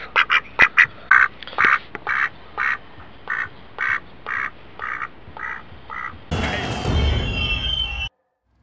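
Ducks quack in a video game street scene, a run of about a dozen evenly spaced loud quacks before a burst of broadband noise takes over near the end.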